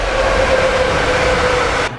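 A train passes right beside the tracks at night, a loud, close roar with a faint steady whine over dense rumbling that continues then cuts off abruptly.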